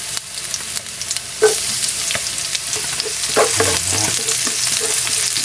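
Garlic sizzles in hot oil in a pan while a utensil stirs and scrapes it, steady frying hiss throughout with occasional clinks and scrapes at moderate loudness.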